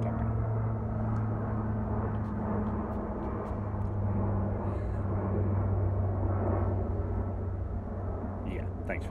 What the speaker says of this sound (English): plane comes over as soon as I start talking